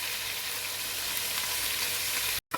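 Garlic ginger paste fries in hot oil for chicken nehari, giving a loud, constant close-up sizzle that breaks off briefly near the end.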